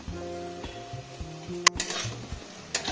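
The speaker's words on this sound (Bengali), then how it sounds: "মশলাটা আর একটু কষিয়ে নেব ভালো করে" Spice masala for a potol-and-egg curry is stirred in a pan close up, with soft steady sizzling under the scrape and clink of a metal spoon against the pan.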